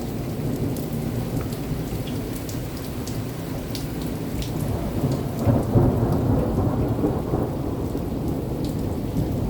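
Severe thunderstorm with steady heavy rain and low rumbling thunder that swells around the middle, all heard outdoors at a moderate distance with no talking.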